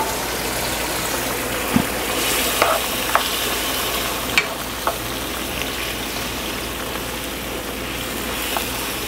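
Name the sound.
chicken adobo simmering lightly in broth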